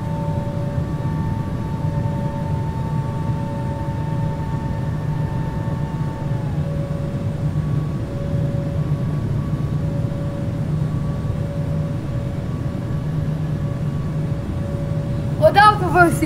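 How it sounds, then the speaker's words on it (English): A steady, droning jet-engine hum from an airliner taking off steeply in the Infinite Flight simulator, with faint sustained tones over the rumble and a brief burst of sound at the very end. "Well, that was a very steep takeoff, so that's a rip takeoff."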